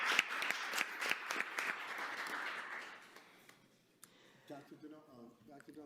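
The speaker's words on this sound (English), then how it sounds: "We applaud our math scholars as they are inducted in the 500 Club math" Applause at a school committee meeting for math scholars inducted into the 500 Club, moderate clapping in the first few seconds that fades out, followed by quieter voices talking.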